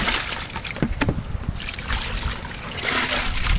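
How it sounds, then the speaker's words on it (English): Creek water being poured into a Sidewinder vortex concentrator, close uneven splashing and trickling with short bursts and gurgles that swell again near the end, no talking. "Get that water into the concentrator."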